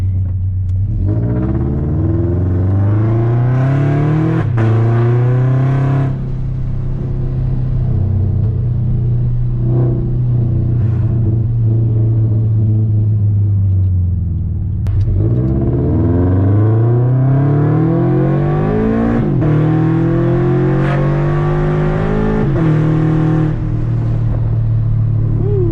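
A Scion FR-S driven on the street with stability control in sport mode, its engine loud and close as revs climb in long pulls, drop back on shifts, then rise again, a deep rumble with rasping highs and no talk.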